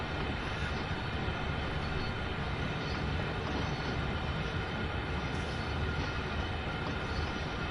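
Heathrow Express train in Train Sim World 2, a steady, dense rumble of wheels and traction noise that holds at an even level throughout, with no voices.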